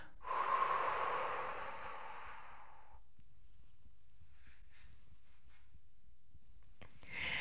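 A person doing a hypopressive abdominal exercise lets out one long, forceful exhale lasting a couple of seconds, then holds near-silent with faint rustles before a fresh breath begins at the end.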